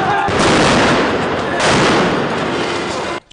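Fireworks explode at a temple procession, a loud, dense burst of crackling blasts that fills the clip before cutting off abruptly.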